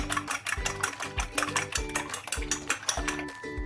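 Quick, rhythmic metallic clinking of a whisk or fork beating three eggs in a bowl, steady and close, with no talking.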